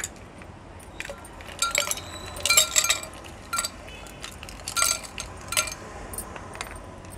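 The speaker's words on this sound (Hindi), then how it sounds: "उसमें हम आइस क्यूब डालेंगे" Ice cubes dropped into a glass holding black salt while making a Blue Lagoon mocktail, giving bright, scattered clinks and rattles in several small clusters, close by and fairly quiet.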